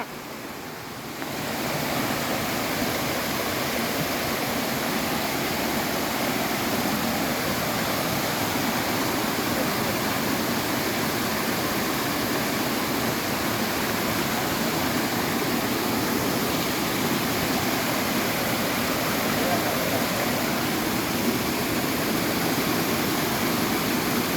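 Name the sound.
Thonippara waterfall rushing water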